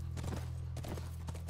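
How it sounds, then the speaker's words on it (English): Horse hooves clip-clop at a walk in The Last of Us Remastered, a few quiet, uneven hoof strikes over a low steady background hum. "Intense horse riding action."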